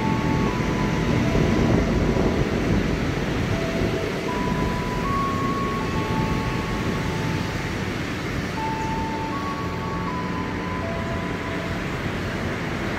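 A KRL Commuter Line electric train at Tanjung Barat station gives a steady mechanical rumble, with faint whining electric tones rising and falling over it and no speech.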